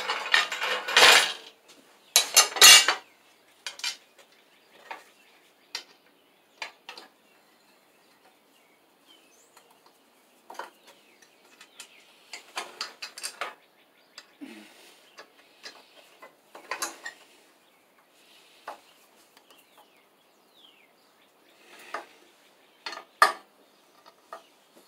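Metal clinks and rattles of a dado blade set being handled and tightened on a Shopsmith woodworking machine, with a few louder clanks early followed by sparse, light metallic taps and ticks in a quiet workshop.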